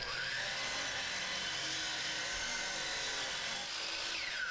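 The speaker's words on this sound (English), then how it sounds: "I started by cutting the rough timber into manageable sections." A power saw cuts rough hardwood timber (white oak, red oak, ash or poplar) into sections, a steady loud whining roar running unbroken throughout, with no voices.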